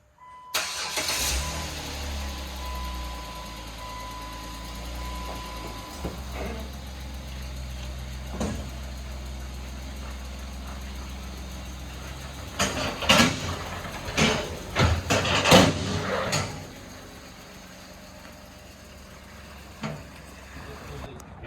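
A Jeep JK engine cranks and fires, then idles steadily nearby with a few clunks and louder bursts, and a person briefly speaks partway through.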